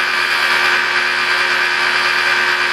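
A car polisher fitted with a wool pad runs at about 1500 to 2000 RPM on black car paint, giving a loud, steady, unbroken motor whine for the whole stretch.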